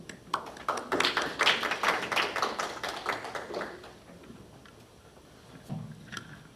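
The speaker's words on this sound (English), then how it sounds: "please welcome the presenter with applause" Audience applause welcoming a presenter to the stage at an East Asian agricultural heritage conference: a few seconds of scattered, loud clapping that fades out, then quiet room tone with a small sound near the end.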